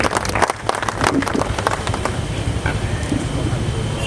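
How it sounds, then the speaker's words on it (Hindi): Enthusiastic audience clapping at a protest rally to welcome the general secretary, a dense, steady patter of applause that carries on for several seconds. "महासचिव के स्वागत में जोरदार ताली बजाएं"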